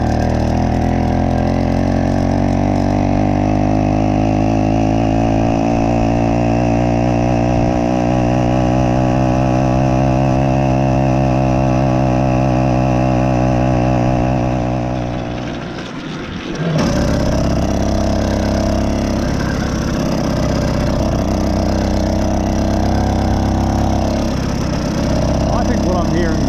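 Mk5 BT100 hybrid engine running with its muffler not seated properly, a loud continuous drone whose pitch slowly rises, dips briefly, then settles into a rougher, buzzing steady run, close by.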